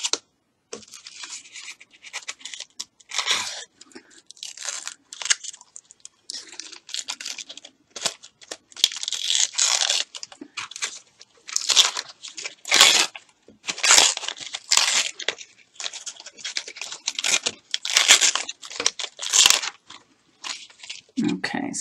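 Paper being peeled and scraped away from a Striped Scallop Thinlit metal die, giving close, irregular crinkling and scratching bursts that come and go throughout, with no talking.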